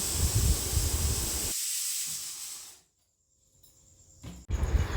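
Pressure cooker whistling loudly on the stove while chola dal cooks, a steady hissing steam jet that cuts off abruptly, leaving near silence before the hiss bursts back strongly.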